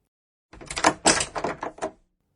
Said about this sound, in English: Then he went out and locked the door.